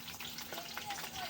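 Green chilies, curry leaves and onion frying in hot oil for chicken curry, a brief soft sizzle heard at a distance with faint background noise.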